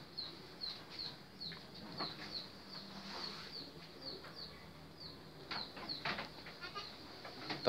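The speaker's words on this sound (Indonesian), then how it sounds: "Tempat ini selalu standby 24 jam untuk persediaan kambing-kambing untuk pembibitan maupun untuk kambing potong" Goats and sheep at a livestock market give occasional faint bleats, mixed with repeated high chirping and light shuffling in a quiet space without speech.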